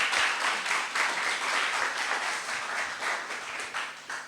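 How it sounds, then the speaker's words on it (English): An audience applauds at the end of a public lecture in Valentia, steady clapping with a few louder bursts, fairly close and continuous throughout. "A huge round of applause to the future of Heart's Content in Valentia."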